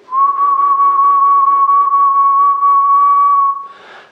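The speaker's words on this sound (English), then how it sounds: "So if we take this Yankee Doodle idea again and whistle." A person whistles a single sustained, steady tone of the Yankee Doodle idea, close and clear, held for about three and a half seconds before a brief breathy release.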